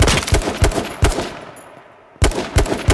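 Rapid bursts of automatic gunfire in a video game, loud and close, with a short lull in the middle before another volley of shots rattles off.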